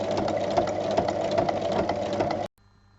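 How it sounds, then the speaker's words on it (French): A sewing machine runs a continuous stitch close to the fabric edge, a steady loud mechanical whir and patter that stops abruptly near the end, leaving near silence. "Et on vient faire une piqûre au plus près du bord."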